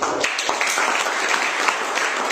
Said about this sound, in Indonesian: Dengan sorak-sorak yang biasa.